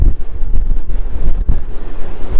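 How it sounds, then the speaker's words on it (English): Strong wind roars and buffets a microphone on the open front deck of the cruise ship Carnival Luminosa, loud and gusty throughout with low rumbling bursts. "it is extremely windy up here"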